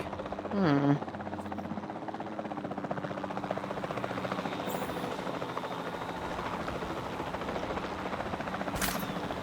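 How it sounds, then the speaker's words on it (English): A capture team helicopter in the video game Jurassic World Evolution 2 produces a steady rotor drone that fills the whole stretch, with a short louder burst near the start. "Then the sensible thing is to take a capture team helicopter."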